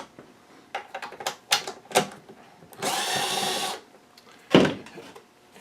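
Two screws being taken out of the cover of a Eureka Precision Boss vacuum cleaner, with a cluster of short clicks and rattles, a sustained whirring burst in the middle, then another sharp rattle, close and fairly loud.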